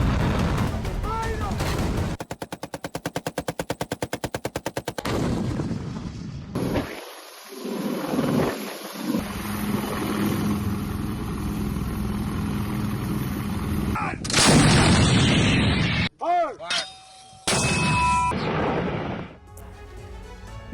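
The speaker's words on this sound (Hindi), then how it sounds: "होवित्जर तोप से दुश्मन के ठिकानों को बर्बाद किया" Howitzer artillery rounds fire during an India-US military exercise at the Mahajan Field Firing Range near Bikaner, Rajasthan, booming loudly in repeated heavy blasts with rumbling echoes and sharp crashes across the open range.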